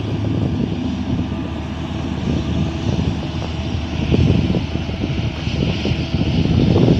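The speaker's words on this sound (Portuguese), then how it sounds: "Vocês estão vendo aí o rolo compressor compactando aqui no sentido Alto Bonito" A road roller compacts earthwork on the main avenue of a neighbourhood under construction, a continuous loud engine drone with rumbling low-end and shifting intensity, close by and without voices.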